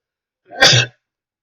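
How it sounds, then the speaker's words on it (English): A single sharp, close sneeze bursts out of silence and cuts off quickly, leaving quiet on both sides. "Sneezing happens sometimes."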